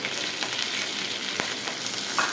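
Curry leaves frying in hot oil with mustard seeds and dal on a low flame, a steady close sizzle with occasional small pops and crackles throughout.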